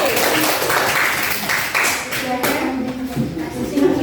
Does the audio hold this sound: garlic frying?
no